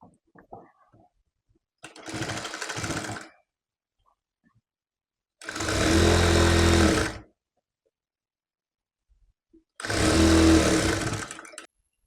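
Sewing machine joining the crotch seam of a blue baby jumpsuit, running in three separate bursts of about one to two seconds each, loud and close, with silent pauses in between.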